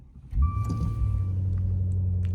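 A 2024 Maserati Levante V8 Ultima SUV starts up in sport mode: a starter whir and bark as the engine catches, then a steady deep rumbling idle, close and loud with no talking.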